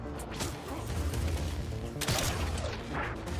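Gunshots in the video game Death Stranding, a few sharp reports with swishing effects layered over a busy, rumbling game soundscape, fairly close and loud.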